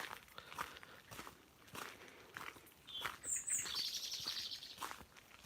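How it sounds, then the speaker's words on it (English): Outdoor birdsong in gardens with a blackbird's bright chirping calls rising midway, over scattered footsteps crunching on a path; no talking. "The blackbird there. They make a lot of noise when they're flying."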